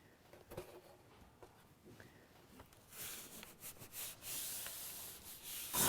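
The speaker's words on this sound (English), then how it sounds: "scrape and sand away." Hand sanding of a stiff two-ply wood veneer panel taped to a bench, quiet at first and then a louder, steady series of rasping strokes in a close, rhythmic scrubbing pattern.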